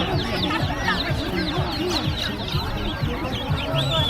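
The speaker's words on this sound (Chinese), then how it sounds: "春天的集市上有很多鸡苗、鸭苗出售。" Many chicks and ducklings peep and cheep constantly at a rural spring market in Linyi, a dense, close chorus of high chirps with low clucking and a voice mixed into the background.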